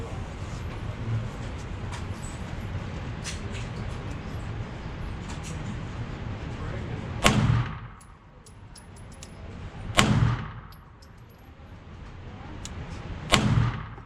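An Atlas Gunworks Athena pistol fires three sharp, loud shots a few seconds apart, each cracking out over a steady background rumble with brief decaying echoes.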